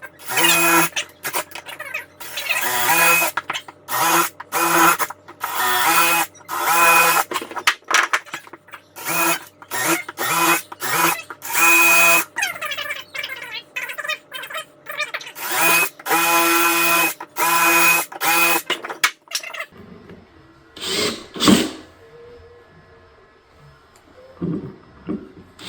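A power drill cuts a countersink into wood blocking in loud, repeated bursts of high-pitched whirring separated by short pauses, followed near the end by a few softer, scattered knocks and handling sounds.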